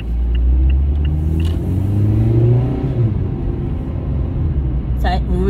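A sluggish car engine runs and rumbles low under a voice, revving up briefly mid-clip before settling back to a steady idle-like drone.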